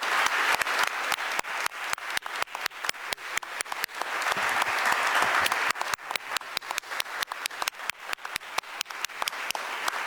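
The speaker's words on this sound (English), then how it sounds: "Let's everybody stand up and give Anna Verna an applause" A crowd at a Columbus Day proclamation event gives a standing round of applause, a broad wash of clapping punctuated by sharp, loud individual claps close by, continuing for about ten seconds.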